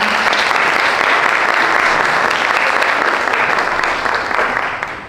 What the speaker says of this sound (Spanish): Un fuerte aplauso para Eric